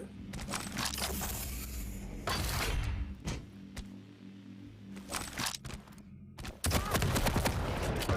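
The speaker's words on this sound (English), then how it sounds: "Sunski's just got a normal machine gun" Machine gun fire in a Quake Champions 1v1 arena match, with irregular short bursts and single cracks scattered over a steady game ambience. A few louder shots stand out near the middle and a dense burst comes at the end.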